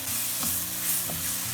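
Mashed brinjal bharta frying in a pan over a lowered flame gives a steady, close sizzle, with a couple of soft stirring scrapes and no one talking.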